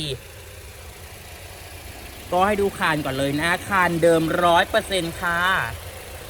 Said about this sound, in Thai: อันนี้คือเสียงสตาร์ก็คือเสียงเบาอยู่นะ